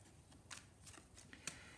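Tarot cards are shuffled up close, giving soft, rapid riffling bursts and flicks at an irregular rhythm, quiet and with no voices.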